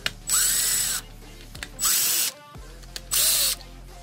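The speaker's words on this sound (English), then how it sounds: "take your T25, loosen these three bolts up here, here, and here" Harley-Davidson 2016 Iron 883 intake cover bolts being loosened with a T25 driver: three loud, close bursts of a whirring power driver, each about half a second to a second long, separated by short pauses and clicks.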